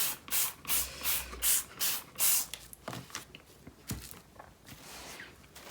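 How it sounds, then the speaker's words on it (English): A handful of quick spritzes of water from a spray bottle onto wool during wet felting, hissing bursts close by, followed by softer rubbing and handling sounds. "Let's give that a little spray as well."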